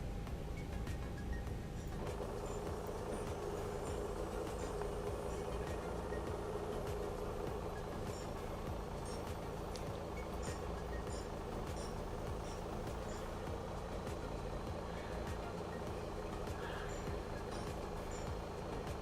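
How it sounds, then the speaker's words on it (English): An Airbus A321neo's number one engine spools up in the X-Plane 11 flight simulator, a steady broadband whine and rumble that holds at an even level throughout, with a faint tonal layer after the first couple of seconds. "We'll go ahead and start engine number 1."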